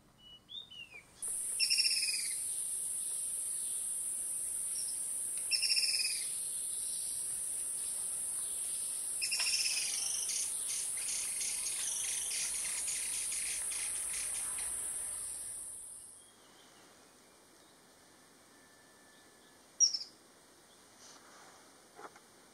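A White-browed Piculet gives a short call three times at intervals, set against a constant high insect buzz that fades out near the end.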